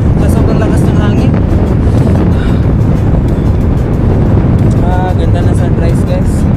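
Strong wind roars across the microphone during an early-morning road bike ride on a Trek Madone SL 6 Gen 8, a loud constant rumble with someone talking over it.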